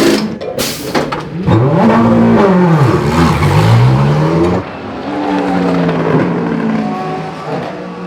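Loud race cars at the Le Mans 24 Hours roar past one after another, engines rising and falling in pitch as they approach, pass close, and recede.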